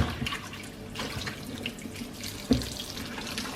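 Water runs steadily from a tap into a sink while callaloo leaves are swished and rinsed, with a soft clunk midway.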